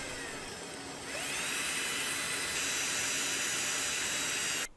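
Power drill spinning a part printed on an FLSUN V400 3D printer: a close, steady motor whir that rises in pitch as it spins up, holds a sustained whine, then cuts off abruptly.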